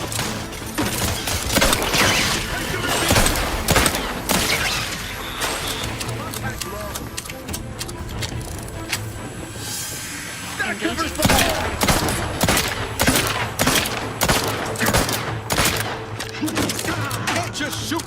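Gunfire in The Outer Worlds 2 bursts out in repeated volleys of sharp shots over an ongoing game soundscape, with a short lull midway before the shooting resumes.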